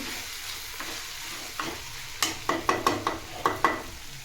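Sweet potato roasting in ghee for a fasting kheer, with a low sizzle under a run of sharp, evenly spaced spatula scrapes and taps against the pan that grow louder toward the end, no voices.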